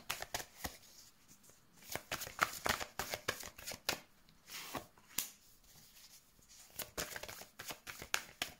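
Cards shuffled by hand for a tarot-style card reading, a quiet run of crisp riffling bursts and sharp flicks in irregular clusters, close up, with no talk.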